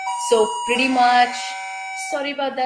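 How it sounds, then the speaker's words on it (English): A home doorbell chimes several electronic tones in a ringing sequence, loud and close, partly under a person's apologetic talk. "That was our doorbell."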